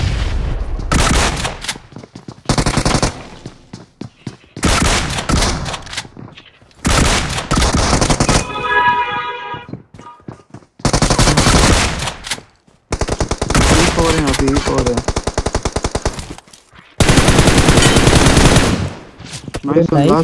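Sustained bursts of automatic weapon fire in a competitive battle royale game, repeating in several loud blocks with short gaps, with players talking over it.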